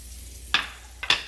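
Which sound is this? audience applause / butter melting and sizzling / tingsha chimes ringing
butter melting and sizzling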